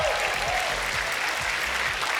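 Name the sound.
audience applause and cheering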